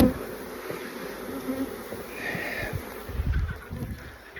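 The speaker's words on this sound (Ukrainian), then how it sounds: "ой, бджоли" Honeybees buzz in a continuous drone nearby while bee packages are formed, with soft rustling and handling bumps underneath.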